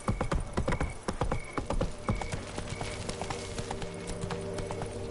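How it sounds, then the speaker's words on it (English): Hooves of the horse Roach clip-clop in a quick, rhythmic trot in The Witcher 3: Blood and Wine, close and clear at first, then thinning out over a steady ambient hum. "Whoa there, Roach."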